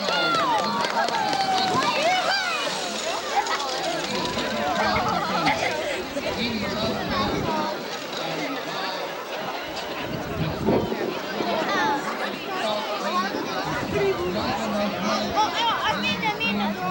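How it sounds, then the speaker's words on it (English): A crowd chatters steadily at the Fort Kent Can Am sled dog race on a wintry day, a constant outdoor babble of many voices mixed with an announcer talking over a PA throughout. "We have quite a crowd here today"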